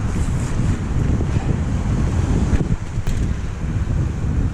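Loud, continuous roar of a raging river rushing close by on the Thredbo Valley mountain bike track, a steady broadband wash with no talking.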